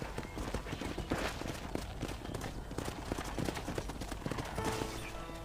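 Horse hooves clip-clop steadily in Red Dead Redemption, a continuous rhythmic trot at close range with occasional faint whinnies and game ambience underneath.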